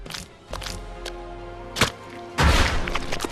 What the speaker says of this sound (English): Again, the explosion.